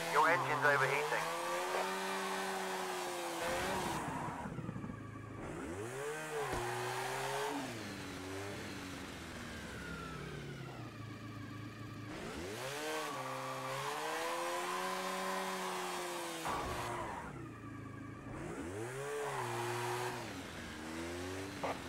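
An overheating, damaged Honda car engine in a racing game, revving up and down repeatedly as it climbs through gears and drops off, steady and fairly close, with occasional talk over it.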